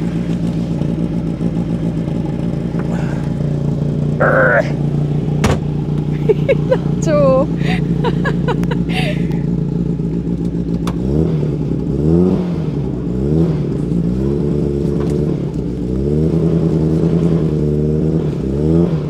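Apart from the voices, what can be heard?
old Austin Allegro car engine running and revving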